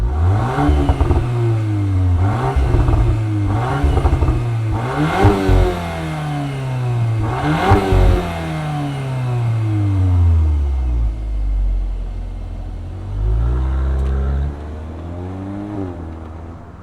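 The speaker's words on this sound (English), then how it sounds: "let's fire up this 2-liter turbo Golf R and hear what it sounds like" A 2024 Volkswagen Golf R with a 2-liter turbo engine revs several times from idle. Loud, close blips rise and fall, then a longer rev winds down to a settling idle.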